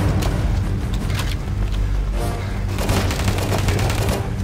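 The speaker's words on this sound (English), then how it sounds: "The fire rate with SMG gear just feels great." Continuous dense SMG gunfire and explosive booms fill a firefight in the mobile shooter Afterpulse, a loud unbroken wash of rapid shots with no talk.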